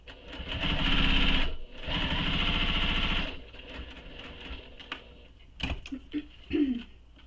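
A sewing machine stitches a handmade satchel in two sustained, even bursts of rapid needle hammering. Quieter handling clicks and small rustles follow as the machine stops.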